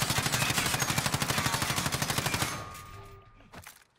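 Rapid automatic gunfire in Call of Duty Warzone Plunder rattles off in a fast, even burst of about two and a half seconds, then cuts off and leaves a faint tail, a single later shot and quiet game ambience.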